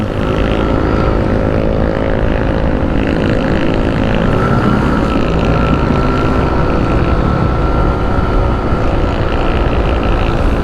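A motorcycle with about 65,000 km on the odometer, no longer very fast, rides along a road from Los Baños toward Calamba; a loud, steady engine drone with wind rush runs continuously throughout.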